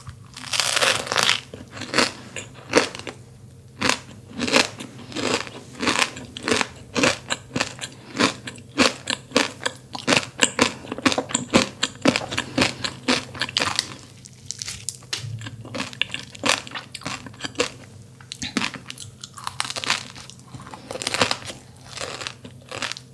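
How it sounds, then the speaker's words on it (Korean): Crisp, repeated crunching as a flaky kouign-amann pastry layered with crunchy kadaif is bitten and chewed up close, a steady rhythm of sharp crackly bites with no talking. "거기에 더 바삭바삭한 카다이프가 씹히니까 여태까지 경험해보지 못했던 그런 빵 식감과 맛이에요."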